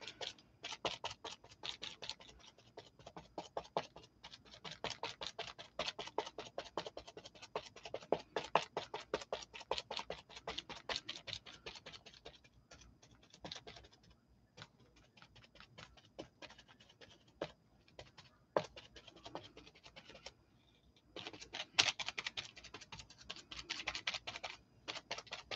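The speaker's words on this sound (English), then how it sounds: "when you're pouncing, to pounce and turn" A sponge pounced repeatedly onto a painted book cover, producing rapid, close, dry tapping dabs in irregular bursts with brief pauses, fairly faint and with no talk.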